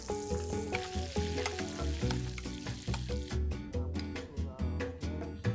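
Scallops searing in butter in a hot pan produce a crackling sizzle, heard beneath louder background music with rhythmic beats.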